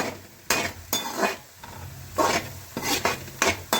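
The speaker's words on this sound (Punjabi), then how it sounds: "ਆ ਸਾਡੇ ਭੁੱਜ ਚੁੱਕੇ ਨੇ ਪਿਆਜ਼ਾਂ ਨੇ ਦੇਖੋ ਤੇਲ ਵੀ ਛੱਡ ਦਿੱਤਾ ਹੈ" Onions frying in oil with cumin powder and garam masala for baingan bharta are stirred in a pan, with repeated scraping strokes in a loose rhythm over a soft sizzle, close and clear without talk.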